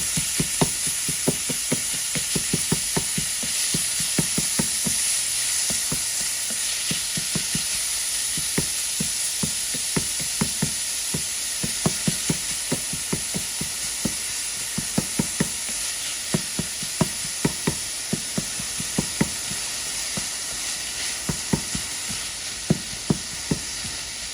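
Beef empanada filling sizzles steadily in a hot pan while a utensil scrapes and knocks through it in a loose, repeated stirring rhythm, close and fairly loud with no talking.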